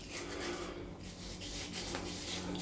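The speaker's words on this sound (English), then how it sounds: "I'm going to use this side of the cube, so I'll keep this side nice. Yeah, just rub that in." A shaving brush is rubbed over a cube of shaving soap with a soft, continuous close-up scrubbing and rasping, faint and steady.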